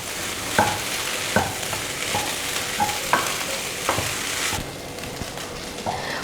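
Leftover puttu being stirred into egg masala in a hot pan, with a steady sizzle broken by repeated scraping strokes of the spoon roughly every second, close and fairly loud, no voices.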